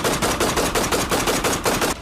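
Rapid gunshots fired in a comic-book audio drama, a fast even burst of about a dozen sharp cracks in under two seconds, loud and close, with no voices over them.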